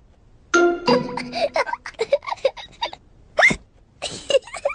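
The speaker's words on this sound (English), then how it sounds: "George drank his juice too quickly, and now he has hiccups." A cartoon pig hiccups after gulping juice too quickly, a series of short sharp hiccup bursts amid chiming effects and voices, close and loud.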